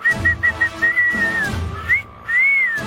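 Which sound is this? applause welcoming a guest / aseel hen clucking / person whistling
person whistling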